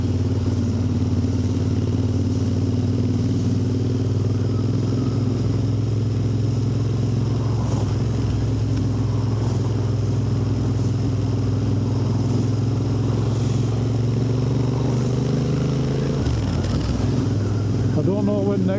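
A Royal Enfield Interceptor 650 motorcycle rumbles steadily on a ride through cold, clear weather, its low engine drone loud and continuous before a brief dip and rev change near the end.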